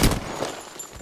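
Gunfire in the battle royale game Apex Legends: a short, loud burst of shots at the very start, then a rattling tail that fades over about a second, with no voices.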